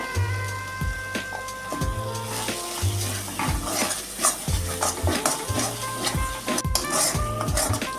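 Ground spices including Kashmiri chilli powder and turmeric sizzle and fry in a pan for a Bengali fish kalia, with repeated scraping stirs and clinks of a spoon against the metal pan over steady frying, no talk.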